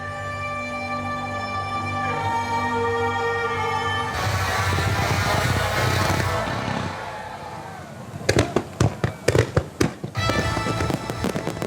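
Fireworks at a space-themed pyrotechnic show burst overhead, a dense rolling crackle and rumble under a steady musical soundtrack, followed by a series of sharp, loud, rapid explosive bangs.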